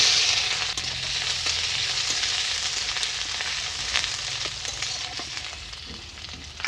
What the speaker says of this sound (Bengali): কড়া গরম হয়ে গেছে তেল দেব গোটা জিরা আদা রসুন